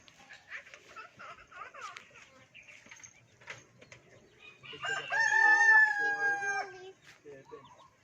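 Chickens in a backyard setting, soft clucks and scattered sounds followed by one loud, close rooster crow lasting a couple of seconds, with a little faint talk around it.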